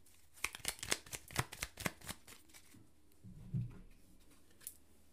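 A tarot card is drawn from the deck with a run of crisp, close paper flicks and snaps in quick succession, then a softer shuffle and one final light tap, all quiet and alone.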